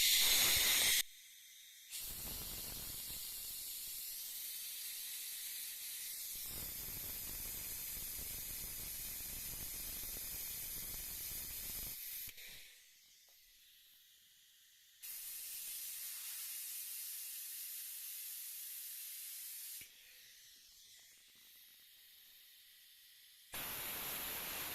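Pneumatic brake bleeder hissing in long steady blasts each time the trigger is squeezed, drawing brake fluid from a stubborn brake; loud broadband air rush with brief gaps and quieter stretches between bursts, no voices.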